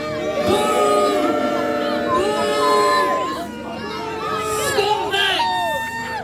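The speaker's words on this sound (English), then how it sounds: "Boo!" A protest crowd at an encampment in Leicester booing together, a dense mass of many voices rising and falling, with children's shouts and scattered chatter mixed in, fairly loud throughout.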